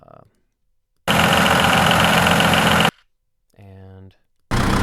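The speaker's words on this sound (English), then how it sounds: "we've got one tractor idling sound, or that's a diesel engine sound" A tractor diesel engine idles at a higher intensity in two abrupt bursts, a dense close rumble with a fast steady pulse, with a brief voice heard in the gap between them.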